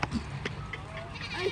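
A large Beetal goat bleats on a goat farm in Pakistan, a few short, fairly quiet bleats close by against faint background noise and murmuring voices.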